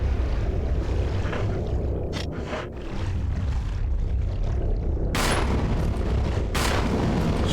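Loud booming gunfire aimed at a shark in Resident Evil, a few heavy shots over a constant rumbling underwater-like drone, with two bright blasts near the end.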